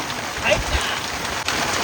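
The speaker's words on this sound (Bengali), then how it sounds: "আরে মারাত্মক বৃষ্টি, আইলা মারাত্মক বৃষ্টি ছিল।" Heavy rain pours in a dense, loud, steady hiss close by on the Matla River, with no one speaking over it.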